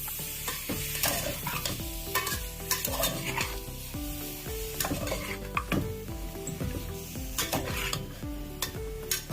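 Chicken with turmeric stirred and frying in a pot, a steady sizzle broken by repeated scraping and clinking of a utensil against the metal, close and continuous with no voices.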